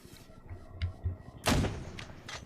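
A single mortar round fires with a heavy boom in the military game ArmA, standing out loud against a quiet background of low rumbling.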